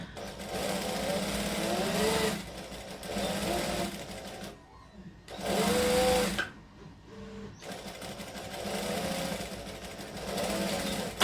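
A sewing machine stitches a shirt sleeve in several long runs of fast, even humming stitches, loud and close, with short quiet pauses between the runs.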